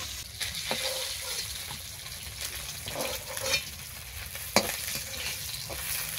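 Fish fries in hot oil, giving off a steady, faint sizzle with soft crackles and a few sharp spatters and stirring clicks.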